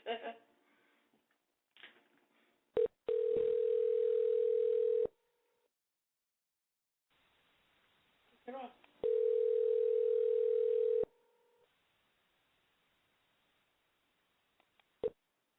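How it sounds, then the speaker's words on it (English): Telephone dial tone during a call attempt, two long steady tones each lasting a couple of seconds, separated by clicks, handset noises and a gap, with speech in between. "So let's make a phone call first."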